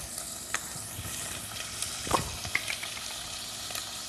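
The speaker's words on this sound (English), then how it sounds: "Now dump in your garlic." Garlic and shallots sizzle in a hot pan for fondue, a soft steady frying hiss with a few stirring scrapes and clinks, close but quiet.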